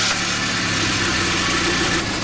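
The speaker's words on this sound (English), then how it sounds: "We'll start the engine and see what the pressure is." A car engine idles steadily during a catalytic converter back-pressure test, a continuous close rumble with a broad even hiss and no speech.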